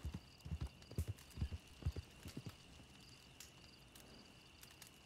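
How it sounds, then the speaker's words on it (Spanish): Horse hooves clip-clop in Red Dead Redemption II, a steady run of soft close thuds over the first half with crickets chirping faintly behind, then trailing off into quiet ambience. "A ver, voy a moverme un momento con el caballo"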